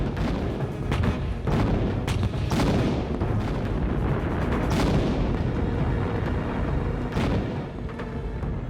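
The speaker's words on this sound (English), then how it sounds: "And so she turned her guns on the land." A warship's big guns bombard the shore in a dense, continuous roar of heavy booming blasts that overlap and rumble on without pause.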